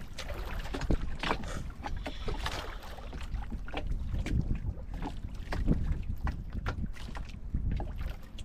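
Steady rumble of a boat moving across open water, with wind buffeting the microphone throughout and no voices.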